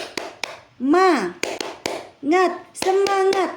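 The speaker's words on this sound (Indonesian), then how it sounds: "akan memberikan salam semangat untuk kalian sambil bertepuk tangan ya" A first-grade primary school class doing a spirited clapping cheer: sharp, close hand claps in a steady pattern, broken up by children's shouted chants, all loud and close.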